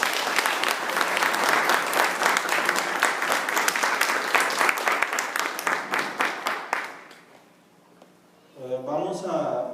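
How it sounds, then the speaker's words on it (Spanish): Church congregation applauding together, dense rhythmic clapping that holds strong for about seven seconds before fading, followed by a voice speaking. "démosle un aplauso a Jesucristo."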